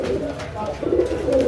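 A pigeon coos in soft, repeated low phrases, close and steady, while a market-stall pigeon seller's voice runs alongside.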